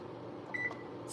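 A kitchen timer is set while cooking lasagna. One short, thin electronic beep sounds partway through over a faint steady kitchen hum.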